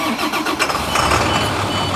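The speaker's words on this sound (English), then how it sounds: "You can see as soon as the engine started, this is a 45-second test" A car engine cranks and starts during a 45-second pressure test, beginning around 78 PSI. The engine noise is steady and fairly loud across the whole moment, with no talking.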